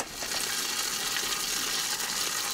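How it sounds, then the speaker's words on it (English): Water is poured in steadily, a continuous bright gushing hiss with slight splashy texture, close and unbroken throughout. "Going to add in a bit of water."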